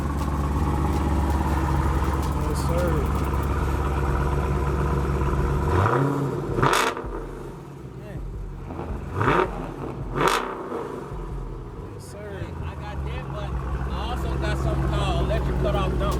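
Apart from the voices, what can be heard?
Cadillac CTS-V engine starting and revving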